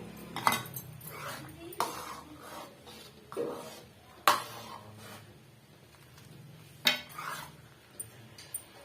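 A pot of beans being stirred with masala paste for a bean kuzhambu, giving clinks and scrapes of a spoon against metal in irregular bursts, with soft background movement between strokes.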